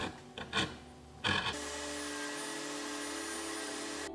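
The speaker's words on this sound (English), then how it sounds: "I followed with the Dremel to create the leaf texture." A Dremel rotary tool grinds texture into hand-carved wooden leaves, a couple of brief rasping passes followed by a steady high whine of the spinning bit, close and alone.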